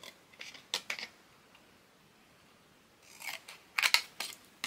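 Scissors snipping through a postcard for a craft journal card, two short bursts of crisp cutting strokes, close and clear, separated by a quiet pause.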